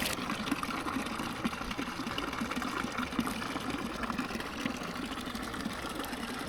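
Water from an outdoor fountain beside a gravel cycling route along the river Inn runs steadily into a cycling water bottle, a continuous, even hiss and splash with no talk.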